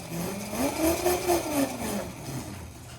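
A Razor MX125 40V 350W electric motorcycle motor whines up under throttle, rising and falling in pitch over a couple of seconds before easing off, close and fairly steady, with no voices.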